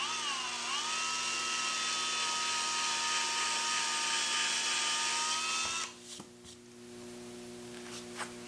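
A power drill runs steadily for about six seconds, a loud whining hum that dips briefly at the start, drilling into a wooden RV stove-top cover. It then stops, followed by a few faint taps and clicks.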